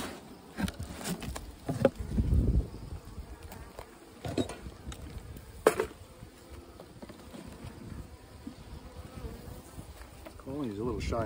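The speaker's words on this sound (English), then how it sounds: "Bees." Honeybees at split hives give a steady, close buzz throughout, with occasional thumps and rustles of frames being handled.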